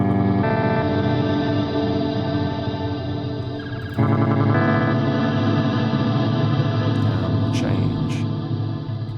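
A Meris LVX delay pedal preset with poly structure and BBD delay type, extra modulation, dimension and crossfeed gives sustained, shimmering, chorus-like repeating tones that shift to a new chord near the midpoint, loud and alone with no talk.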